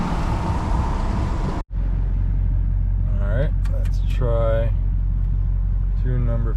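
A tuned LB7 Duramax diesel pickup truck accelerates with a steady engine rumble, broken by a sharp momentary cutout as the transmission shifts hard, then the drone resumes; someone talks over it.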